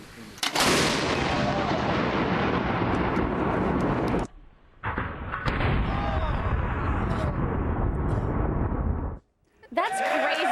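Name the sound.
40mm Bofors anti-aircraft gun firing at a mannequin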